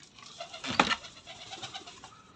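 Newly arrived pigeons give soft, low cooing calls nearby, one fuller coo standing out amid a faint, steady murmur of background noise.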